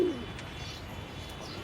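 A pigeon at a home pigeon loft gives a brief, soft coo at the very start, then only faint background room noise follows.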